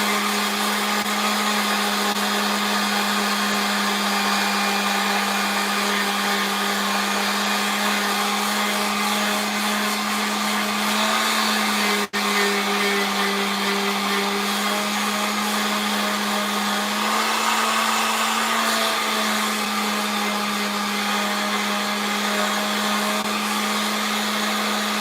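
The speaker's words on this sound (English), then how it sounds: "I have my little electric sander." A small electric sander runs steadily on a craft piece, a loud continuous motor whine with a brief dip midway and a slight change in load near the end; no talking.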